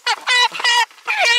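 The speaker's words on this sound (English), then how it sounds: "Sound like geese." Loud nasal honking calls from geese, three or four harsh blasts in quick succession, close and clear with no talk.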